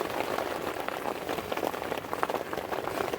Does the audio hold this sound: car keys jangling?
no